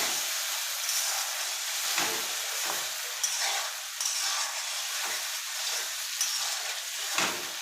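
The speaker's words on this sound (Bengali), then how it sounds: "এরকম নাড়াচাড়া করে নেব।" Chicken sizzles with apples and a little spiced water in a pan, a loud continuous hissing fry broken by about six stirring strokes.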